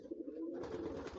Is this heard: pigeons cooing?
yes